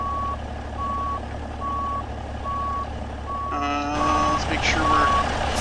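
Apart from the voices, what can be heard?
truck reversing with reversing beeps to hook up trailer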